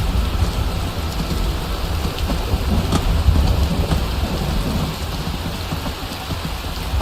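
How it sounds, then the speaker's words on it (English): Steady heavy rain pours down in a Skyrim landscape during an undead apocalypse, a dense continuous hiss with a deep low rumble underneath, loud and unbroken throughout. "I wish this bloody rain would stop."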